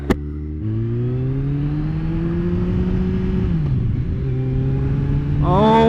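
A 2009 Kawasaki ZX-14 sport motorcycle accelerating on a ride: a loud, close engine drone rises steadily in pitch through the gears, with a brief dip before climbing again.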